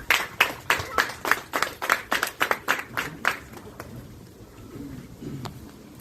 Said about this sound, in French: Veuillez applaudir à défaut de les décorer les membres du bureau sortant.